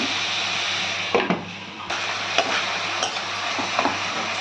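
Tomatoes and onions sauté in a pan for Chennai-style vada curry, giving a steady close sizzle with occasional scrapes and soft knocks from stirring.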